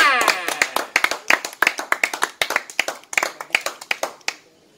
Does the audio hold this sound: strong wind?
no